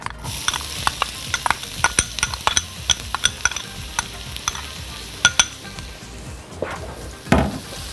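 Onions go into a pan to soften before ground meat for a grape-leaf pie. A soft sizzle runs under repeated clicking scrapes of a utensil stirring against the pan, with a couple of louder knocks near the end.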